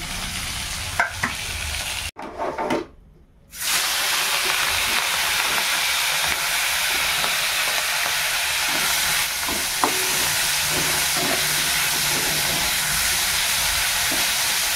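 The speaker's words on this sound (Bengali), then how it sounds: "বন্ধুরা, জিরে আর কালো জিরে ফোড়ন দিয়েছি তেলের মধ্যে" Whole cumin and black cumin seeds sizzle in hot oil in a Bengali kitchen, a loud, steady broadband hiss with a brief dip early on, then continuous crackling frying and a few sharp stir clicks, with no voices.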